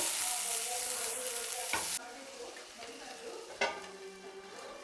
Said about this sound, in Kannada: ಈಗ ಚೆನ್ನಾಗಿ ಫ್ರೈ ಮಾಡ್ಕೊಳ್ಬೇಕು.